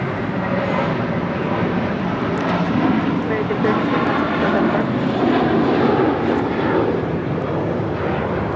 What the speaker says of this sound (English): the A350 with Lufthansa making that left-hand turn onto Lima